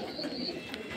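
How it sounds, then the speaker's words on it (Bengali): Racing pigeons coo softly in a loft, with a few low, murmuring calls close by over a faint background hum. "কবুতর আছে।"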